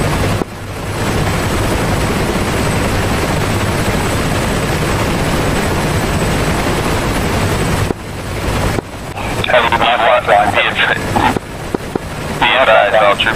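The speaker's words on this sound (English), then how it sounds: "Troop transport helicopters," A troop transport helicopter in the combat flight game DCS World makes a steady, loud rotor and engine drone that continues throughout, briefly dipping before voices talk over the noise.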